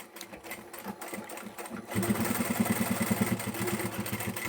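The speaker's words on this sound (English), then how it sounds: "so I'll triple stitch over there." A sewing machine triple stitches along the side edge of a fabric tote's flap, its motor starting quietly and then running as a loud, steady rapid chatter of needle strokes, heard close with no talking.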